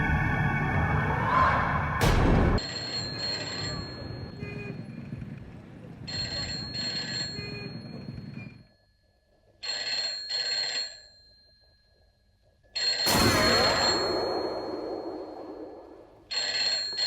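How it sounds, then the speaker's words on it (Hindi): Telephone ringing on a call to a police station, repeated bursts of ringing separated by pauses, with people talking and music around it. "तू कटरा फोन कर, इंस्पेक्टर भट्ट से बात कर।"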